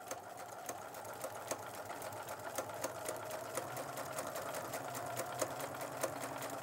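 A sewing machine runs steadily, stitching quilt pieces for flying geese blocks with a quiet, even mechanical whir and rhythmic needle clicks, faint and alone without any talk.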